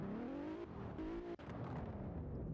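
A video game car engine with a modded realistic idle sound, a steady close-up tonal drone whose pitch climbs and dips as it revs, heard alone with no voices.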